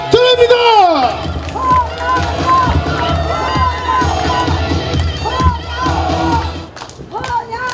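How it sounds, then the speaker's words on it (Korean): A crowd at an election campaign rally at the Gurye five-day market cheers loudly and shouts with applause, lively voices rising and falling throughout. "큰 박수와 함성"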